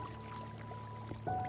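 Quiet, brief splash of a water bucket being poured in a Minecraft-style Lifeboat Skyblock game, over a faint background hum with no speech.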